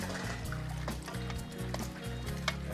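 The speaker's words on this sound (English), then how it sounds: "I am pouring that brine away" Brine drains off bone-in pork chops after hours of soaking, a steady liquid pour and trickle into a sink or container, close and continuous at moderate volume.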